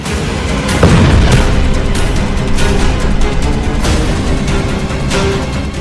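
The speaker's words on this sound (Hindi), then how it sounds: "इस कार के परखच्चे उड़ाने वाला धमाका हुआ, पूरा रूस हिल गया।" Car bomb blast in Moscow: a loud, continuous rumbling roar with repeated booming bursts, dense and close throughout, with no voices.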